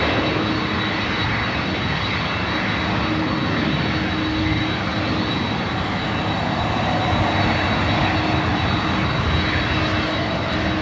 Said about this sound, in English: Southwest Airlines Flight 1876 coming in from Chicago Midway